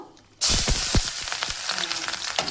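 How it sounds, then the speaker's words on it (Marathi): Chopped onion, green chili and garlic drop into hot oil, setting off a sudden loud sizzle that keeps crackling steadily, with scattered stirring clatter and pops close by. "मी गरम तेलातच टाकणारे कांदा हिरवी मिरची लसण"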